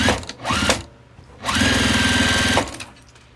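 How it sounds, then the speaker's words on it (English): A sewing machine stitches diagonally through quilted fabric for a scrappy quilt-as-you-go tote bag, running in two steady bursts, a short one and then a longer run of about a second, with a quiet pause between. "Then I'm just going to stitch all the way down."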